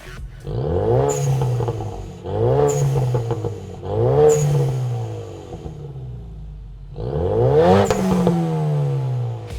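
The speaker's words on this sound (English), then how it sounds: "You can expect a ton of volume and a lot of turbo noise from this system." A 2015+ Ford Mustang EcoBoost with a Borla ATAK axle-back exhaust revs four times, each loud rise carrying turbo whoosh and a throaty rumble before it falls back to idle.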